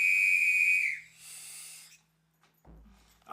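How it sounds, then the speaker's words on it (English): Loud, close whistle, one long steady high tone that drops off, followed by a second softer breathy whistle, then a short rustle. "Whistle,"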